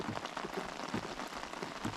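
Steady spring rain falls on a carp-fishing spot at the water's edge, a dense, even patter of drops hitting surfaces close by with no break and no voices.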